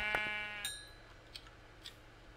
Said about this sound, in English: Where's those sheep?